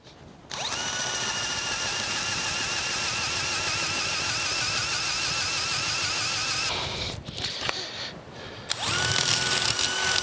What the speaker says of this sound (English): Go to a 3/4 inch drill,